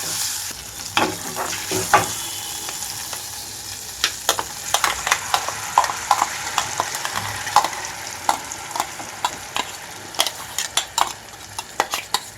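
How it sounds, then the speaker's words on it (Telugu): Ground gongura leaves go into a hot pan and are stirred, with a soft sizzle under repeated sharp scrapes and clinks of a spatula against the metal pan, growing busier toward the end. "గ్రైండ్ చేసి పెట్టుకున్న గోంగూర అంతా కూడా ఇందులోకి వేసేస్తున్నాను"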